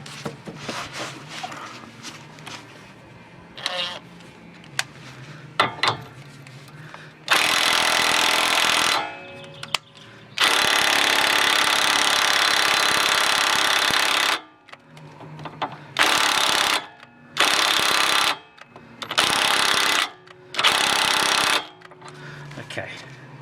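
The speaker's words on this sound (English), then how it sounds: "the impact doesn't really do much, but it is moving the bolt around" An impact wrench working on an Alfa Romeo GT rear suspension bolt, firing in several loud sustained bursts of rattling hammering, separated by pauses where a person talks and tools clink.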